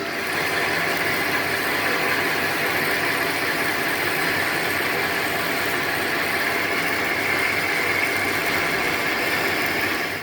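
Metal lathe turning a part at about 400 RPM for a Harley-Davidson Road King chopper build, a steady dense mechanical whir and rattle of cutting that continues unbroken and fairly loud throughout.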